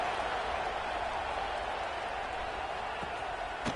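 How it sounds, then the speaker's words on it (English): A football stadium crowd at Michigan v Oregon buzzes after a score, a steady, dense wash of crowd noise with no break across the whole stretch. "this crowd is buzzing after that last score"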